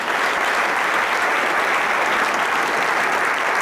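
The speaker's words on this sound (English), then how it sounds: "I want to ask everybody to just join in a round of applause for them" A conference audience at an event on Israel in world media gives a round of applause: thick, continuous clapping, loud and close, sustained evenly throughout with no talking over it.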